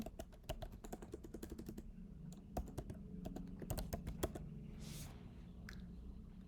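Computer keyboard typing, a run of quick, close key clicks in uneven bursts, fairly quiet with a short pause and a brief scuffing sound near the end.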